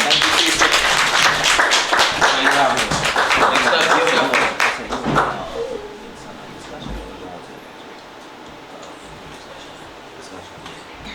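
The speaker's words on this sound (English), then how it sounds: "Keep a round of applause, everybody." An audience at a writing session gives a round of applause: brisk, loud clapping for about five seconds, then it tapers off into a quiet room.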